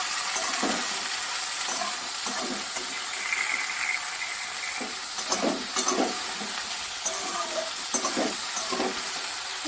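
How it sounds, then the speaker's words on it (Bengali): Potatoes, tomatoes, onions and green chillies frying in a pan with blackened garlic, a steady sizzle under scattered stirring clinks and scrapes from a spatula, close and continuous. "এগুলো এখন আমি ভালো করে ভেজে নেব"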